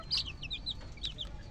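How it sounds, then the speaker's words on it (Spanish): A hen clucking close by in a short burst of several quick, high clucks over faint background noise, with no talking. "tenemos esta hermosa gallina, la cual la estamos preparando para nueva vez producir"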